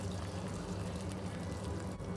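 Water pouring into a pot of chicken stew with sauce, a steady close splashing gush that runs continuously without talk.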